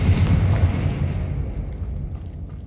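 A Confringo fire spell bursts in the Hogwarts Legacy video game, a single loud, deep explosive boom that rumbles and slowly fades over a couple of seconds.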